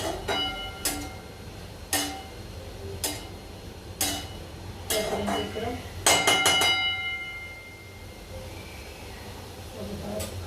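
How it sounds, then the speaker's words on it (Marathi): A metal lid set down on a pan of steaming cabbage in a home kitchen, giving several sharp clinks and knocks across the clip, with background talk underneath. "आता मी याच्यावर झाकण ठेवते"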